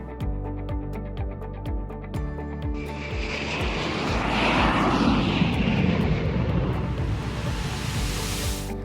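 Airliner cabin engine noise: a loud, steady propeller-like drone with a low humming rumble that swells into a broad roaring wash, constant and without voices.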